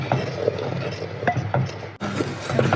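Kerala-style mango pickle mixture being stirred in a pot, a spoon scraping and clinking against the metal in uneven strokes, close and moderately loud.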